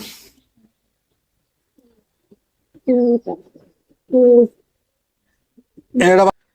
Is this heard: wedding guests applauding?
no